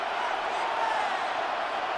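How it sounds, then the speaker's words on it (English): Stadium crowd roar from the video game Madden NFL 26, a steady broad wash of loud cheering noise that holds evenly throughout with no distinct breaks. "This crowd trying to be a factor, getting very loud now."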